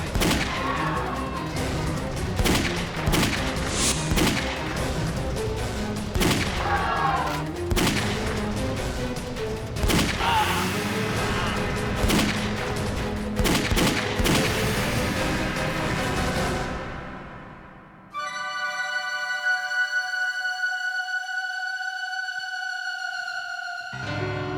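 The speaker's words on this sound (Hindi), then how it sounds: "किसने गोली चलाई?" Gunfire rings out in a tense crime-drama scene inside a new building under construction, a rapid run of sharp repeated bangs over several seconds that fades out before sustained dramatic music tones take over.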